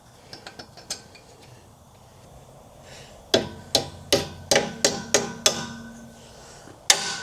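Metal cotter pins are fitted back into a CAT 265 loader, giving a series of sharp metallic clinks and taps. A few light ones come first, then a quicker run of louder strikes, with no talk.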